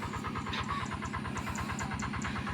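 The engine of a shallow tube well irrigation pump on a farm runs steadily, a rapid, even chugging rhythm heard close and continuous without a break.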